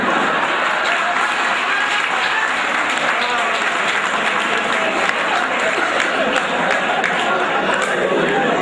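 Sustained, dense audience applause with many hands clapping at once, loud and continuous throughout with no pauses.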